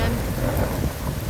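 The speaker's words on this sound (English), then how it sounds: "We get these lightning storms every once in a while" Thunder from an Oklahoma lightning storm rumbles as a dense, loud, low roll mixed with the hiss of falling rain, continuous and enveloping outdoors.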